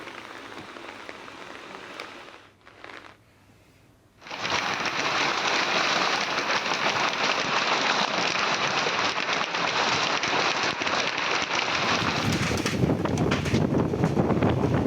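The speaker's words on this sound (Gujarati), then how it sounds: "જે પવન આવી રહ્યો છે જે અવાજ આપ સાંભળી રહ્યા છો એના પરથી જ સ્પષ્ટ થઈ રહ્યું છે કે કેટલો ભયાનક પવન છે" Strong wind with hail and heavy rain lashing Kaprada in Valsad. After a brief lull, a loud, dense, continuous roar of rain and gusting wind sets in and keeps going with no voices.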